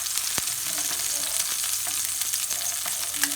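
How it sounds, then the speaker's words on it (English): Pork sausages fry in a pan with a steady, close crackling sizzle, broken by a few sharp pops and light clicks of handling throughout. "We will fry maybe 4 for now, not too much."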